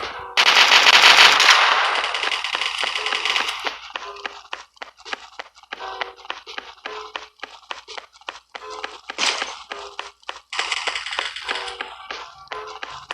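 Shotgun fire in the free mobile first-person shooter Coalition: a dense, loud burst of gunfire opens, then sharp shots crack repeatedly in quick succession, close and dry, with no talking.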